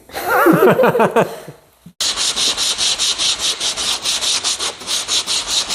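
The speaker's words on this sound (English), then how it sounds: "Let's get sanding." A brief vocal sound, then steady rhythmic sanding strokes rasping back and forth against a Moto 4 surface during restoration, loud and close.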